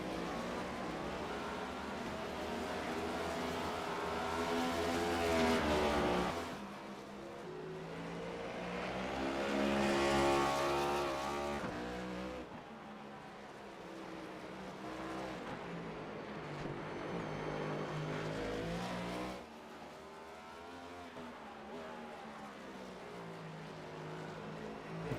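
Ford Mustang race cars in a Darkside Mustangs A2 Cup Series race at Sonoma Raceway, engines roaring loudly and continuously as cars rise and fall in pitch through gear changes and pass one after another.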